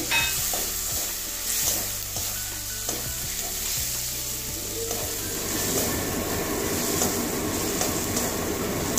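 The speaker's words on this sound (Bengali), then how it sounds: "এবারে টমেটো কুচি দিয়ে দিচ্ছি।" Chopped tomatoes go into a sizzling pan of oil with turmeric for a katla fish curry; rhythmic spoon taps and scraping give way to a dense, louder crackling sizzle, all close with no talk.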